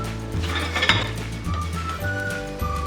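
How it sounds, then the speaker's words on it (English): Wooden spoons stir cabbage and vegetables in a pan for fresh lumpia, giving soft repeated scraping and clinking strokes at a steady rhythm, close up, over a low hum. "Let's stir it all together."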